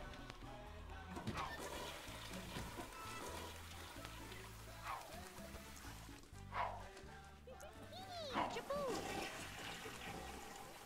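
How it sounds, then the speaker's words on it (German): Water runs from a sink as a character washes hands in The Sims 2, a soft trickling splash mixed with the game's background music while a person talks over it. "Dann gehst du Hände waschen."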